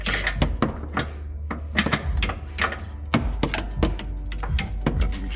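Metal wrench clanks and bolt-turning knocks on a 1999–2007 Chevrolet Silverado idler arm, a rapid series of sharp close knocks and taps over a steady low hum, no talk.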